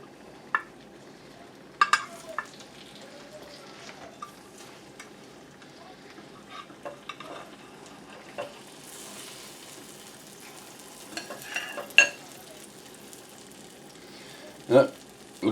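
Soft, steady crackling and sizzling of a freshly baked apple cobbler bubbling hot, with scattered sharper pops and clicks throughout, close and fairly quiet.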